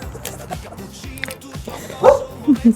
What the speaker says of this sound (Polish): piesy szczekają